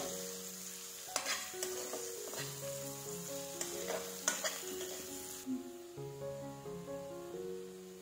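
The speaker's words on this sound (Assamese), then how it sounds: "পিঁয়াজ আৰু নহৰুখিনি অকণমান ৰঙচুৱা হোৱালৈকে ভাজিব লাগিব" Onion and garlic sizzle in a hot pan with green chillies while a utensil stirs them, a steady frying hiss broken by a few scraping knocks, close and alone.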